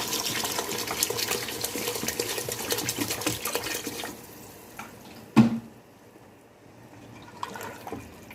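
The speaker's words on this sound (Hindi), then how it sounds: "अब हम इसमें पानी डालेंगे।" Water poured into a cooking pot of beef kofta gravy, a steady close splashing stream for about four seconds that then stops, followed by a sharp knock and quiet kitchen sounds.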